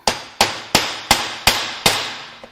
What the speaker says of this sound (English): Let's see if a hammer can fix it